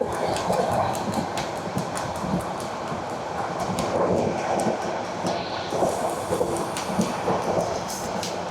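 The Mahanagar Provati passenger train from Dhaka to Chattogram rumbles steadily along the rails with a constant roar and rhythmic clicking from the wheels, close by, with no talking.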